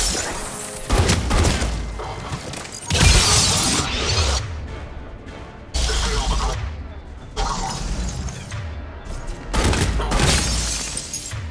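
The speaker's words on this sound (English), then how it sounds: "Even though it's just a point-blank shotgun" Raider point-blank shotgun in the Mass Effect 3 video game firing repeatedly, a handful of loud, heavy blasts spaced about a second or two apart, each with a sharp crack and lingering rumble, with combat noise between.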